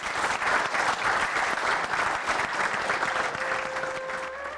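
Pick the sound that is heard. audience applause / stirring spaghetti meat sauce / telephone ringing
audience applause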